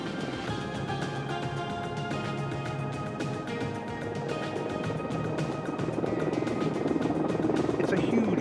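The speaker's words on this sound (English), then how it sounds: "It's a huge helicopter." A large Mil Mi-24 Hind helicopter with a five-bladed rotor flies at an air show, its rotor thrum and turbine whine rolling on steadily, fairly close, swelling a little louder toward the end.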